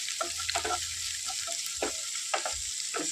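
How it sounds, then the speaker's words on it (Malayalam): Onions sautéing in a pan for Kerala green gram thoran: a steady sizzle with repeated soft scraping strokes of a spoon, close and alone with no talk. "ആ സവോളയൊക്കെ നന്നായിട്ട് വഴന്ന് വരാൻ തുടങ്ങിയിട്ടുണ്ട്"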